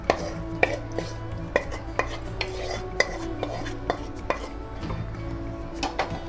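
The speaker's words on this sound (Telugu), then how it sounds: "వేసుకొని కలుపుకుందాం ఇట్లా" Tomato paste stirred into a pan of tomato pickle, a spoon scraping and knocking against the metal pot in a steady repeated rhythm, close by with a faint sizzle underneath and no talk.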